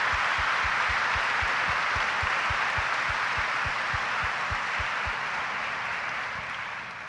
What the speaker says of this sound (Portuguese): para a gente dar uma salva de palmas para os que estão aqui